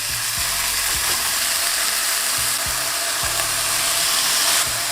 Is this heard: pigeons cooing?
no